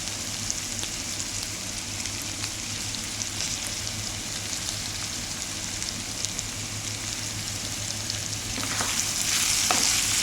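Green chilies sizzle steadily in a pan of partly cooked tomato and ivy gourd curry, with occasional scraping stirs and a brief louder burst of frying near the end.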